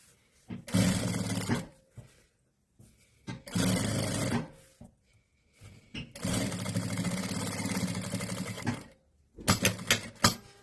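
A sewing machine stitches close along the edge of a zipper while a custom fabric box is being made. It runs in several loud, buzzing bursts of rapid stitching with short pauses between them, and no one speaks.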